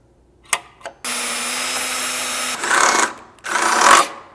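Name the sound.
power drill drilling holes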